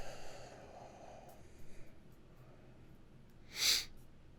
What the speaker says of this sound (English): I also hate loud nose breathing, which is pretty much what I'm being forced to do